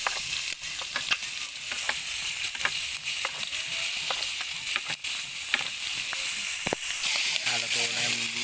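Squid frying in a pan, a steady crackling sizzle with sharp pops and spatters that continues throughout, with someone talking over it now and then.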